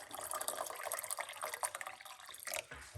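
Hot water poured from a cup into a cooking pot for an herbal tea, a close, bubbling trickle with uneven splashes that swells briefly near the end.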